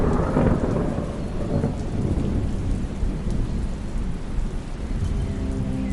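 Heavy rain pours in a storm at a forest village near a bamboo grove, a dense continuous roar with low rumbling thunder and gusty wind throughout, no voices.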